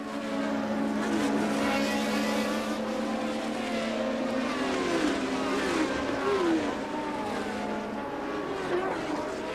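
1982 Formula One race cars roaring past with high, whining engine notes that rise and fall in pitch as several cars sweep by at close range.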